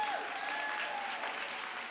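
A crowd at a sponsor event applauds, a thick, continuous wash of clapping from many people throughout, moderately loud and unbroken.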